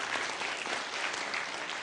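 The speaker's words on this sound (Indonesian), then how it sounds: "Tepuk tangan buat beliau." Dense, steady applause from an audience at the inauguration ceremony for the IPNU & IPPNU central leadership, a close wash of many hands clapping without pause for about two seconds.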